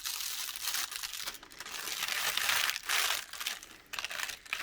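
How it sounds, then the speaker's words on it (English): A 2-step foil sheet is peeled off decorated apparel, giving a continuous close crinkling and tearing rustle that rises and falls in waves over several seconds. "We're going to go ahead and just peel this sheet off."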